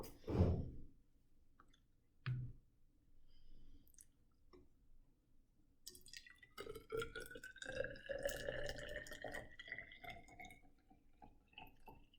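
Sugar water is poured out of a container in a quiet room: a few faint drips and knocks come first, then a trickling, splashing stream that runs on for several seconds.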